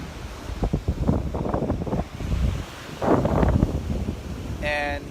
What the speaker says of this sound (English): let me show you the ocean